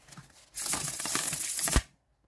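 The Corrupted Tarot card deck gives one quick, close shuffle, a bright papery riffle lasting just over a second that ends in a soft snap as the cards settle.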